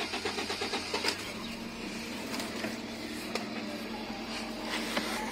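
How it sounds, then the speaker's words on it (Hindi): A Toyota Corolla GLi engine is cranked by its self-starter, a rapid rhythmic churning that catches into a steady running engine, heard moderately close with no talk. "अब आपको एक सेल्फ मार के दिखाते हैं।"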